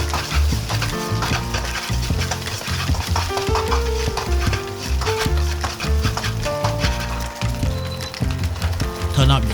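Chopped garlic and shallots stir-fried in a pan on an induction stove, with a steady sizzle and spatula scraping under loud, tonal background music.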